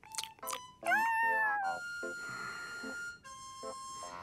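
A cartoon cat gives a series of short, high, warbling meows, some stretched and wavering, mixed with electronic tones from a Marvel's Future Avengers animated episode.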